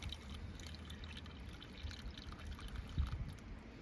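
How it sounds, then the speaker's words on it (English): Distilled water trickles quietly into the low cells of an off-grid battery bank, a faint soft pouring with a small splash near the end. "Topping off the low cells with some distilled water here."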